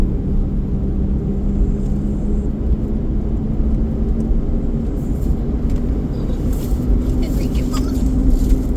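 A warmed-up truck engine idles with its cab heater running, a steady low rumble filling the cab throughout, with faint hissy airflow above it and no voices.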